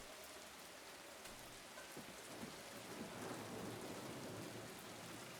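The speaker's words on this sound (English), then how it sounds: "kudos to Bloober for the rain sound effects and the ambient sound effects while you're up here. That distant thunder," Steady rain patters with low rolls of distant thunder swelling midway in a Silent Hill 2 Remake game scene, a quiet, continuous storm ambience with no voices.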